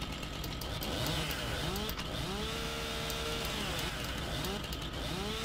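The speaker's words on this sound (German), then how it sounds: "Eine schöne Stihl MS660, eine alte." An old Stihl MS660 chainsaw in the Farming Simulator 19 video game runs with a steady buzzing whine, its pitch sweeping up and down repeatedly as the throttle changes, continuous and moderately quiet.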